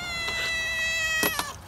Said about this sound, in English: You are a nosy cat.